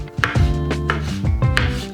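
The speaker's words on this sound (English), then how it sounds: "I'm chopping up a mixture of mushrooms" Knife chopping a mix of chestnut and shiitake mushrooms on a board, quick sharp repeated strikes in an uneven rhythm, close and clear with no talk.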